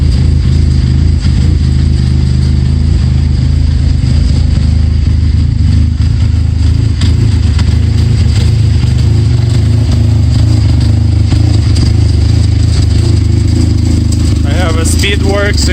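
Motorcycle engine fitted with a Speedworks exhaust, idling steadily close to the microphone with a constant low throb and a brief rev near the end.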